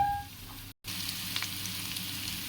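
Frying in a pan for a Telugu fish curry (chepala pulusu), with rock salt and turmeric going in; a steady soft sizzle runs throughout, broken by one brief moment of silence, with no talking.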